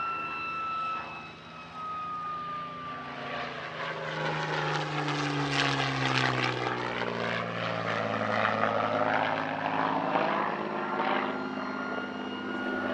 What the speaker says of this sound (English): Today there are just 2 Merlin engine P-40s left flying